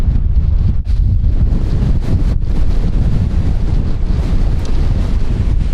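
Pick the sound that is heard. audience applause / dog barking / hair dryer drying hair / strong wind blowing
strong wind blowing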